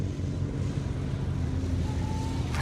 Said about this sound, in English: the music has now faded out to an empty silence only populated by the incoming engines